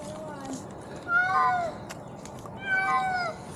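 A cat stuck up in a tree gives two drawn-out, wavering yowls about a second and a half apart, fairly faint against a quiet outdoor background.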